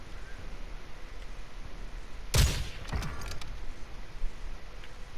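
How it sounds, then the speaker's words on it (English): A sniper rifle fires in the video game Warzone: one sharp crack stands out against quiet background ambience, followed by a few faint clicks and echoes. "Someone else is sniping."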